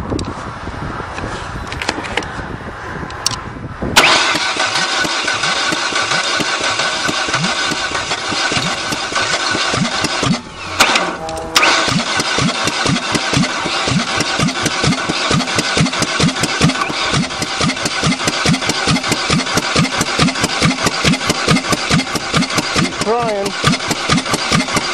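A crushed Mercury Topaz, flattened by a 20-ton dozer and primed with quick-start spray in the intake, cranks and fires, then settles into a rough, loud, rhythmically chugging idle that runs on steadily, with speech over parts of it.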